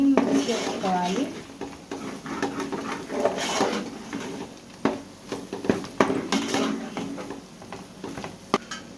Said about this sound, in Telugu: ఇప్పుడు దీంట్లో ఈ 3 వేసుకొని మిక్స్ చేసుకోవాలి